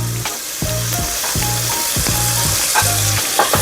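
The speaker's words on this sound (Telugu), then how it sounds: "ఇప్పుడు టమాటాలు వచ్చేసి 3 టమాటాలు సన్నగా కట్ చేసుకొని ఉల్లిపాయలతో పాటు మగ్గించుకోవాలి." Chopped tomatoes and onions sautéing in oil for an egg paneer masala curry, a loud steady sizzle broken by repeated rhythmic stirring strokes of a spoon in the pan.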